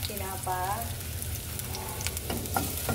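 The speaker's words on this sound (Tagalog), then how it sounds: "Ihulog na ng bawang. Ikaw, iluluto." Garlic frying in oil in a pan for menudo sizzles steadily up close, with a brief tonal squeak near the start and scattered crackles.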